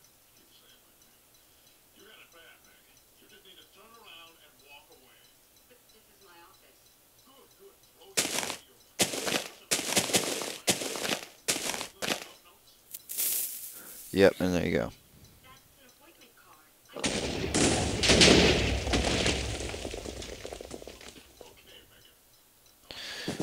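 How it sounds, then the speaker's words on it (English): Explosion from a printer block mod in Minecraft, arriving as a burst of loud, broadband crackling blasts after quiet talk, followed by a longer rumbling blast near the end; a voice speaks briefly. "What better way to end anything than with an explosion, you know?"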